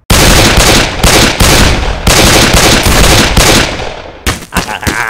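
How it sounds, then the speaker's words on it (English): Plastic toy guns fire in an animated fight, a loud, dense run of rapid shots in several bursts with brief gaps, close and dominant, the barrage thinning toward the end. "You're gonna shoot me with those plasticky guns?"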